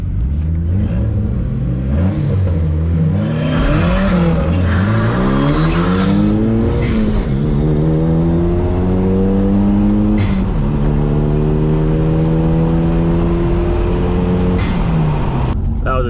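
A Dodge SRT4 and a Mitsubishi Eclipse GSX launch side by side and accelerate hard, loud engine roars climbing through repeated gear changes in rising sweeps, close and continuous.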